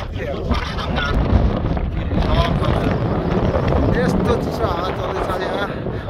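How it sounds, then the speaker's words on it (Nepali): Cold wind sweeps up a mountain trail on Mount Seorak in Korea at about 1,708 m, buffeting the microphone with a loud, steady roar while someone talks over it. "तलबाट यस्तो चिसो हावा चल्दैछ"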